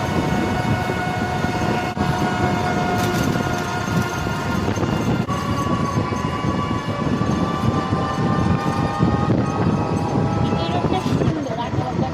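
A train on the Lawachara forest railway line near Srimangal, with a loud, continuous rumble and rattle of wagons and sustained tonal whining lasting the whole stretch.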